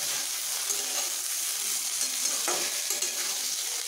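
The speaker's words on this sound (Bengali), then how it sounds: "এবার সবগুলোকে একসঙ্গে ভালোভাবে ভেজে নেব।" Onions and mixed vegetables frying together in a pan, a steady broadband sizzle with faint scraping stirs throughout, close and continuous with no talking.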